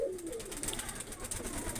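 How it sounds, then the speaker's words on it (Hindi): Pigeons cooing in a loft outdoors, a steady, low murmuring coo that carries on throughout, close and continuous, with no talk over it. "कबूतर और कबूतरिया"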